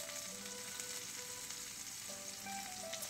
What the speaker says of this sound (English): I have all of the meatballs in the olive oil on the stove cooking away